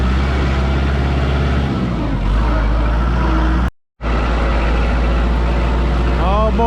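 A farm tractor drives home with a low, steady engine drone that runs throughout, broken by one short cut near the middle. Its tone shifts slightly as it moves, and people talk over it.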